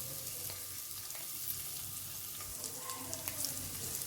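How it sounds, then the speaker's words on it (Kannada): Garlic fries in hot oil for a North Karnataka-style dill greens palya, a quiet, even crackle and sizzle with scattered tiny pops, close by and alone. "ಈಗ ಬೆಳ್ಳುಳ್ಳಿ ಹಾಕ್ತಾಯಿದ್ದೀನಿ"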